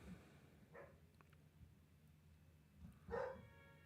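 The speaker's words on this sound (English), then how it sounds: "Sorry to hear my dog going crazy." A pet dog barking indoors, two brief, faint yaps heard quietly and at a distance, separated by a long pause over low room noise.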